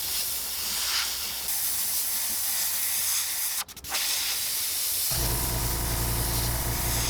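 Clear coat sprayed from a can onto a handmade bluegill-pattern fishing lure: a steady, close, loud hiss that runs for several seconds, breaks briefly, then continues.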